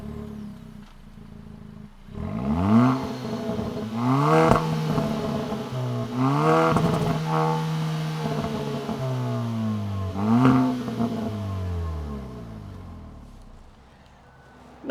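Turbocharged 1.6-litre four-cylinder in a 2022 Kia Forte GT revved in several bursts while stationary, each blip rising and falling in pitch with a gravelly exhaust note, fairly close, settling back to idle between revs.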